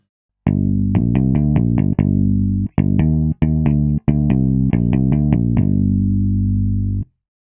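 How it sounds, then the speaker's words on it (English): Layered synth bass voiced like an electric bass, playing a run of plucked-style notes, loud and up front, with a couple of brief gaps and a final sustained note, no voices present. "Here's an example of how this layer can sound if you are going for a more electric bass"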